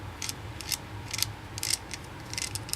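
A Jeep JK top shaft spun by hand before it is seated gives a faint, irregular series of light metallic ticking and grinding bursts under a low background hum.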